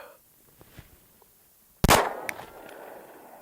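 A single sharp, loud pistol shot of Blazer Brass 115-grain ammunition at a 10-yard range, ringing and decaying, after a few faint clicks and handling noises.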